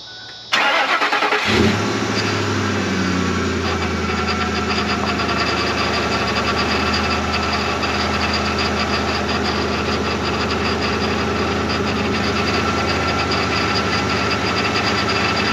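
Ford F150 pickup with the 5.4 3V engine cranking briefly and catching, then settling into a steady, fairly loud idle with a busy mechanical chatter, no talking.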